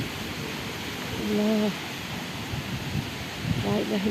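Rain falls during a storm in a Khulna-area village as a steady, even hiss, with short bits of a voice rising over it twice.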